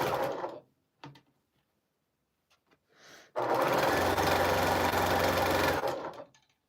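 A sewing machine stitching a quilt top from the Wish pattern runs in one steady, loud burst of about two and a half seconds, preceded by brief rustles and quiet handling noises.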